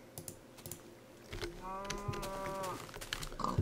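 Cows mooing in the Minecraft video game, a single drawn-out moo rising over faint keyboard typing and clicking in the background.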